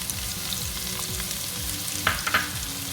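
Chopped red onion frying in a pan, a continuous close sizzle with a few brief sharper crackles and scrapes.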